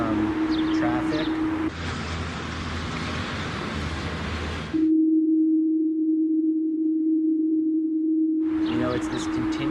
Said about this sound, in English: So we have Gottesman do a spectrogram of our best hum sound, the one out of Rochester, to see if he could place it.